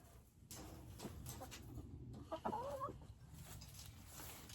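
Backyard chickens cluck softly near a xylophone toy, with a few close, louder clucks and light tapping over quiet ambience.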